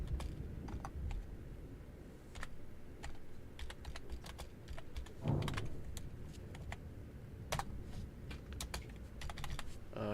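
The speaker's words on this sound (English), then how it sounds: "I'm just typing something on my title now." Quiet, close computer-keyboard typing patters along in uneven runs of light keystrokes over a low background hum, with no talking during it.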